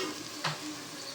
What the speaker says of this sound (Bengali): পেঁয়াজটাকে দিয়ে দেখো ভালো করে নাড়ছি।